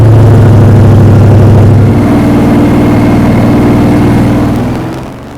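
An Everglades tour airboat's engine roars loud and close, a heavy steady drone with a shift in pitch partway through before it eases down near the end, with no talk over it.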